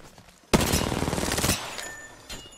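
A rapid burst of automatic gunfire from the Apex Legends video game rattles loudly for about a second, followed by a brief quieter shot and fading echoes.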